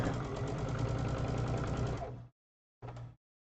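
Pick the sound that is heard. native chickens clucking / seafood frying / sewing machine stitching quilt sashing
sewing machine stitching quilt sashing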